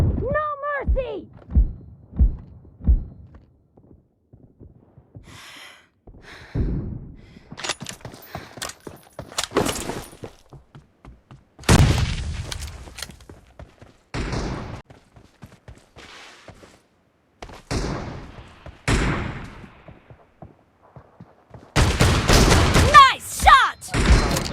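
Shotgun and sniper fire from the PUBG Mobile video game comes as a scattered series of sharp, loud bangs with clicks and reload sounds between them, while game voice callouts speak at intervals.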